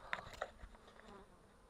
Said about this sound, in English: Bunch of bees